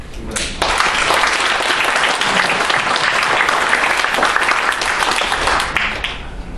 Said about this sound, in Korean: 그 점에서 한번 박수를 보내드립니다